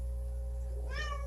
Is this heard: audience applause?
no